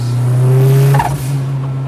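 Turbocharged KA24 engine in a Datsun 510 wagon pulls hard in second gear, a loud steady drone that climbs in pitch inside the cabin, briefly dipping near the middle before carrying on strongly.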